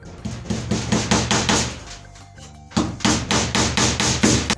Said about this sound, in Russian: Вот не знаю, как я там буду забивать, потому что пространство ограничено, молотком особо не размашешься.